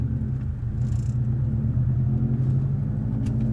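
A Subaru STI with a new aftermarket exhaust idles while it warms up, a steady low rumbling drone with no revving, heard close.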